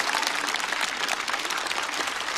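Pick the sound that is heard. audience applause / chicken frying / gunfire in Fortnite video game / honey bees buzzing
audience applause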